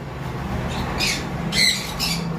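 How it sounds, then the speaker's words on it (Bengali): A blue conure parrot lets out three shrill, harsh squawks in quick succession, close by, over a quiet background hum. "এখন আমরা কোনোর পাখি দেখাবো এই যে ব্লু কোনোর দেখতে পাচ্ছেন"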